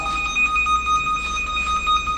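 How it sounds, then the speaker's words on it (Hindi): Cable tracer meter for Cat5e, Cat6 and Cat6A network cabling sounds a steady electronic alarm, a pair of sustained high tones pulsing continuously at close range with no talk over it. "अब जब तक किसे टेस्ट पे नहीं ना लगाएंगे ये अलार्म देता रहेगा"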